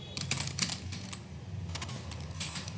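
Rapid computer keyboard typing while entering a solution into an Excel spreadsheet, with steady clicks in quick bursts, close and clear, and no talking.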